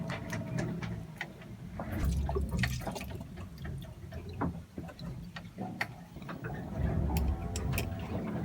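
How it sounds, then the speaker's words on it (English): Wet squelching and gurgling of liquid being drawn up and squirted by a turkey baster siphoning from a diesel fuel tank, with irregular drips and small clicks, close by and fairly quiet. "It's my turkey baster siphoning tool."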